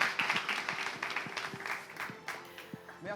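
An audience applauds a contestant at a live hosted competition, a brief burst of scattered clapping at moderate distance, with a voice talking over it.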